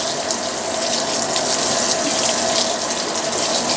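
Steady rushing water pours into the tub of a Fisher & Paykel washing machine during a deep rinse of a normal laundry load, a loud, even gush with a faint hum beneath and no pauses.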